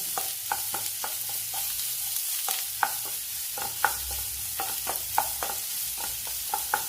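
Sliced onion fries in a pan on low flame with browned coconut pieces for a pork curry, a steady soft sizzle broken by repeated sharp scrapes and knocks of a stirring spoon at an uneven rhythm, close and without voices.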